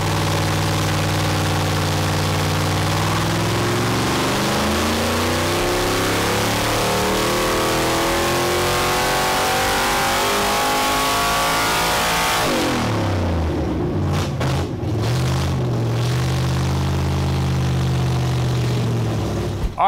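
A 306 cubic inch small block Ford V8 engine roars at sustained high revs under load on a dyno for a long stretch, pitch climbing, then drops back and winds down near the end.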